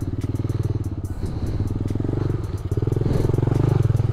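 A mini motorbike revs hard while stuck in a deep mud bog, its small engine buzzing in a steady pulsing drone with clattering bursts, loud and close throughout.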